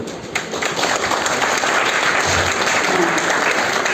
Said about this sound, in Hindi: एक और ताली बजा दो राकेश जी के लिए